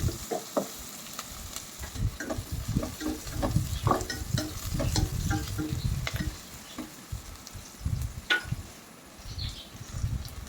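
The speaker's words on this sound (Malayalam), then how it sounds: "പത്ത് ചുവന്നുള്ളി ചെറുതായി അത് ഇട്ട് കൊടുക്കുന്നുണ്ട് കേട്ടോ ഞാൻ നല്ലോണം മൂപ്പായി വരട്ടെ" Ten finely chopped small red shallots fry in a pan for a simple home lunch, a steady soft sizzle with frequent light stirring scrapes and clicks over about ten seconds.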